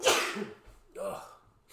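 A sudden sharp sneeze bursts out near the microphone, followed by a quieter breathy sound a moment later.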